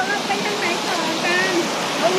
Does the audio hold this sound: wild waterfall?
yes